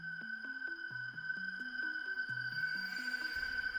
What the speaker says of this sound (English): When Springtrap gets into camera 5, he'll produce a scare sound that sounds like this.